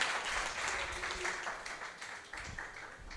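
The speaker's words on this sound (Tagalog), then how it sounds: "Palakpak po para sa Diyos." Church congregation clapping in praise during a worship service, a soft, distant patter of many hands that continues evenly for a few seconds without a break.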